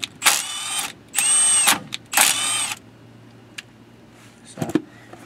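An impact wrench drives an old bolt during an axle bearing and seal replacement, giving three close, loud whirring bursts of about half a second each, followed by quiet and a brief clatter.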